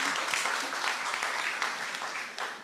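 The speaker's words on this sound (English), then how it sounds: "let's give a round of applause to Dr. Fan" Seminar audience applause for a guest speaker, a dense, even wash of many hands clapping at moderate loudness, tapering off slightly toward the end.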